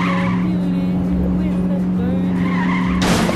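Tires skid and a car engine drones steadily in The Saboteur video game, a continuous hum with a sharp burst of skidding noise near the end, heard without talk.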